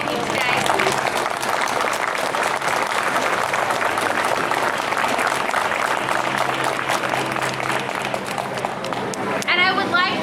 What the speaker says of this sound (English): And we have a round of applause for those that we are thanking today.